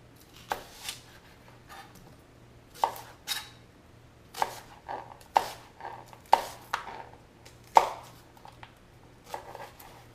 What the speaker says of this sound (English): I'm gonna cut this onion just in half and then cut off the end, and then I'll slice it up